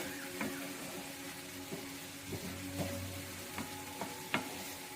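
Chili powder, turmeric and cumin powder are stirred into a sizzling high-protein urad dal curry in a pan, with a steady frying hiss and intermittent soft scraping strokes from the stirring. Nobody speaks.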